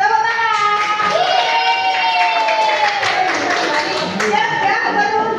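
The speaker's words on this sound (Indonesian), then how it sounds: "Tepuk tangan." Students in a school setting clap their hands in a few light beats, mostly beneath a group of young voices chanting loudly in unison.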